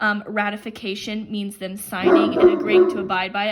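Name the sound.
dog barking in the background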